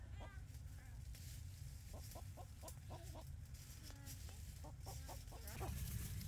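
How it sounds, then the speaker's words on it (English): A stray chicken that got loose and found a hiding spot clucks in a series of short, close calls over a steady low rumble, with a louder burst near the end. "I think it's a chicken that got out from somewhere and just found a place to hide."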